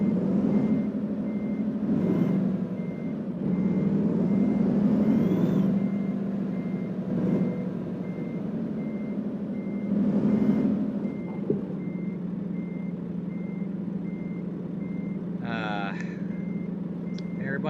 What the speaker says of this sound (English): Okay, now I can hear my truck.